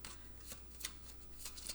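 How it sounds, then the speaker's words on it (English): A deck of board game villain cards is shuffled in quick repeated riffles, soft and close, with no talk. "let us give these another little shuffle"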